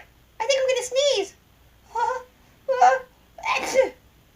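A cartoon character builds up to a sneeze with several voiced, gasping wind-up breaths before the final burst, a voice actor imitating the sneeze loudly and close up.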